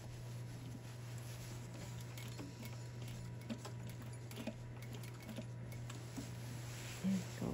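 A sewing machine stitches a zipper into thick denim with a steady, quiet mechanical hum and faint rapid ticking that runs continuously, and no voices.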